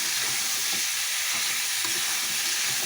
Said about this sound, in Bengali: এটাকে একদম ভাজা ভাজা করে তারপরে মশলা দেবো।